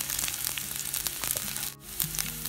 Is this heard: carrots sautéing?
yes